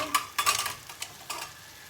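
Food sizzles and crackles in a pan while borscht and eggs cook nearby, with a few louder bursts of spattering as it's stirred; fairly quiet, no voices.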